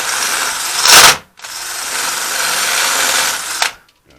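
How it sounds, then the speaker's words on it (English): A power drill bites into a metal part on the rear brakes of a 2011 Ford F-150 in two loud, close bursts, a short grinding spurt followed by a longer steady whir, with no talk over it. "So drill it in."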